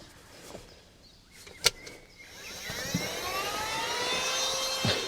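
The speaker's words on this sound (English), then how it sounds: "And now it's pumping up, and when the sound changes into a more like high-pitched sound, the mattress is done" An electric pump inflating a Snuuzu air mattress inside a Tesla Model Y starts up after a click, settling into a steady, rising whine that holds at a fairly constant level with no talking.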